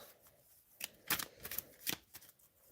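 A new Romantic Love Oracle card deck with sharp, stiff corners is shuffled by hand in a few quick riffling bursts, close and fairly quiet, with no talk.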